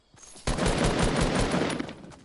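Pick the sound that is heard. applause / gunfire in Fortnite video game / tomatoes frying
gunfire in Fortnite video game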